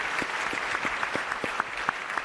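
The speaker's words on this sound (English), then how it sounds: "You should give yourself a round of applause" Steady clapping from an audience at a pitch competition, moderately loud and continuous, with a few sharper individual claps standing out.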